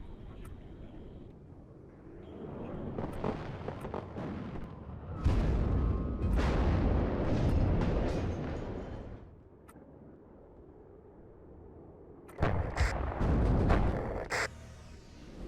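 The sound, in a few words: artillery fire in WARNO video game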